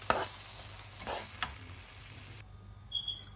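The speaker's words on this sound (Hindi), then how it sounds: "हलवा गाढ़ा होने तक हम इसको पकाते हैं हल्की आंच पे।" Halwa being stirred as it cooks on low heat in a pan, with a few scraping stirs and a soft sizzle that fade out about halfway, leaving near silence and a faint high tone.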